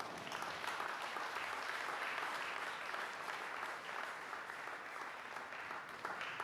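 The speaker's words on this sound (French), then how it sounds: "Nous avons applaudi pour ce que vous avez entendu." A church congregation at a Sunday service bursts into sustained applause, a dense even wash of clapping from many hands that holds steady throughout.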